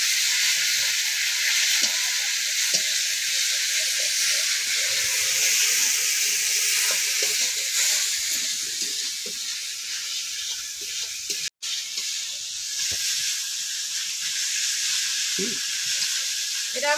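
A frying curry with potatoes and meat masala after water is added, giving a steady, loud hiss of sizzling that runs the whole time, with a brief break and scattered clinks.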